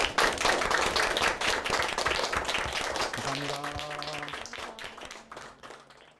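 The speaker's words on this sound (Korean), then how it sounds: "우리 하나님께 영광의 박수 드리겠습니다" A church congregation claps together after a Sunday sermon, dense applause from a roomful of people that slowly thins out, with a faint voice or tone briefly audible under the clapping partway through.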